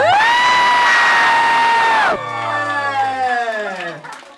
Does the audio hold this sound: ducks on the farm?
no